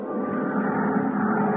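Charter plane in flight, a steady droning engine hum with a continuous muffled roar, fairly loud and unbroken, heard as a radio drama sound effect with no voices.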